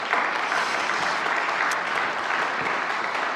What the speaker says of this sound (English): So give them applause for that already while they come up.